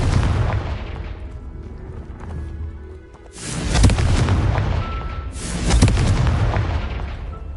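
Two heavy Confringo blast-spell explosions from Hogwarts Legacy, each a loud broadband boom with a long rumbling decay, the second about two seconds after the first, following a quieter stretch of low ambient rumble.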